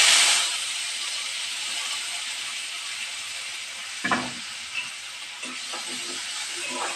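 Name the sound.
onion, chilli and tomato frying in oil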